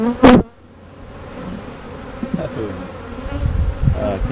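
Honey bees swarm and buzz around an opened hive during an inspection, a dense agitated drone that rises and falls close by after a brief loud knock at the start.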